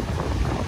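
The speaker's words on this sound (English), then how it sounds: "It is a little bit windy." Steady wind buffeting a microphone outdoors at Maracas Beach, Trinidad, a constant low rumble with breathy hiss across the whole moment, no voices.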